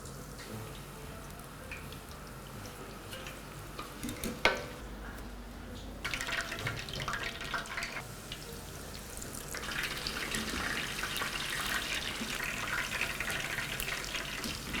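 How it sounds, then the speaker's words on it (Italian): Chicken frying in oil at 180 degrees, a faint, steady sizzle and crackle with occasional louder pops and bursts that grows busier as it goes on. "180 gradi, va benissimo, e comincio a friggere"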